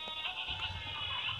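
Goats or Texel sheep bleat from a livestock pen on a fattening farm that also keeps Boer and PE goats, a short wavering cry heard close and fairly loud, with no talking.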